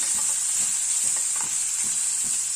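Capsicum rice with masala is stirred in a pan over a low flame, giving a soft continuous sizzle with regular light scraping strokes of the spoon, close and unhurried.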